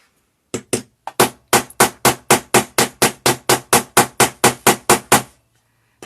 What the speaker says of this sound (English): I might not have a good enough hammer for that too.